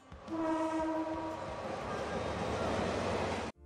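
Crowded passenger train sounding its horn, a sustained blast at the start followed by loud rumbling rail noise of the moving train, ending abruptly.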